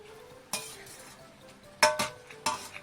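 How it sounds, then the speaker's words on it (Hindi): Spatula stirring beef stir fry vegetables with lemon in a pan, a few scraping clinks against the metal over a faint sizzle, close and separated by short pauses. "अच्छी तरह मिक्स कर लें।"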